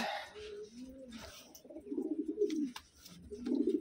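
A large pigeon gives repeated low, throaty coos in short rolling bursts, close and fairly quiet, with brief gaps between calls and no talk.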